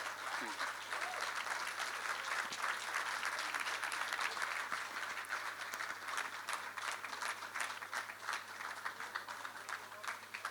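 A studio audience gives loud sustained applause for an actor, dense continuous clapping that holds steady throughout with a low hum underneath.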